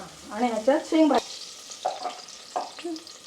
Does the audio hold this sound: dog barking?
no